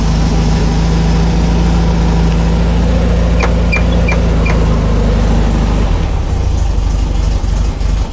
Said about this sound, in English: as you can hear, she is idling a little rough because it's a cold start